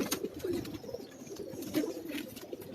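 Pet pigeons coo repeatedly on a Karachi rooftop, soft low throaty rolling calls close by, several overlapping in quick succession with light background noise.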